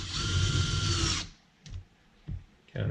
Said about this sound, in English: Now countersink the underside of it so that I can fit the washer and the head in there flush